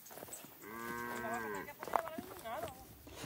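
Indubrasil cattle mooing: a long, drawn-out moo close by, followed by shorter, rising lowing calls, with a voice faintly underneath.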